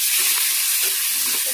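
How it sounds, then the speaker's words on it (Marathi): Chopped onion frying in hot oil in a pan for a seasoning tempering, a loud, steady, dense sizzle with no pauses, close and alone. "इथं भाजत आहे कांदा"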